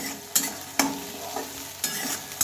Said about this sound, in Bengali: মশলাটা একটু ভালোভাবে নেড়ে চেড়ে নিয়ে ভালোভাবে মিশিয়ে নিলাম